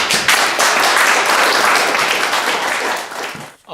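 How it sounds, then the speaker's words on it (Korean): Lecture audience applauding to welcome a professor speaking on Goesan's nine valleys, a loud dense burst of clapping that holds steady, then fades and stops just before the end. "이상주 선생님을 큰 박수로 맞아주십시오."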